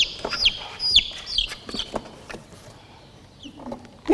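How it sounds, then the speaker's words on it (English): A small chicken chick peeps and clucks close by in a series of short, high chirps, several in quick succession early on, then softer scattered calls. "So yeah, this is my little buddy chicken."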